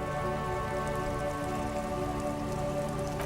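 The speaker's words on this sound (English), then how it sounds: "Rain falls onto the roof of a woodshed." Rain drums steadily onto the roof of a woodshed, a dense and even patter with no pauses, close and moderately loud with no voices.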